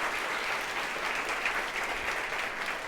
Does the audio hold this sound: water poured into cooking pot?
no